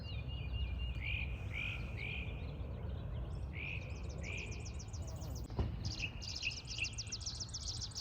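Birds sing in a spring garden, a repeated bright whistled phrase answered by rapid trilling notes, fairly faint and distant over a low background hum, with no talking.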